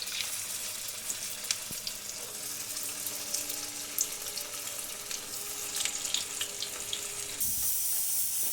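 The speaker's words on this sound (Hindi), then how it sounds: "आप यहाँ देख रहे हैं कि घी अच्छे से गर्म हो गया है, और अब इसमें हम टिक्की को फ्राई होने के लिए" Sabudana tikki fry in hot ghee, a faint steady sizzle with scattered crackling pops, heard alone at low level before a louder hiss near the end.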